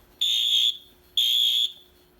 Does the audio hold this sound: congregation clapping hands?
no